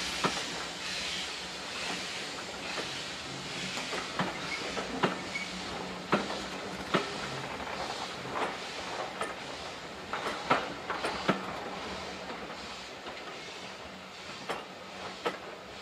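An empty stock train on the GWR Cambrian line rolls past with a steady rumble and a rhythmic clickety-clack of wheels over rail joints. It sounds moderately close, with no talking.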